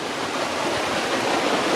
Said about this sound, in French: le son de cette rivière